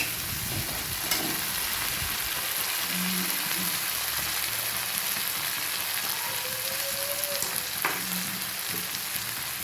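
Ginger paste fries in a pan while being stirred, giving a continuous close sizzle with occasional scraping and clinking of the spoon, no voices heard.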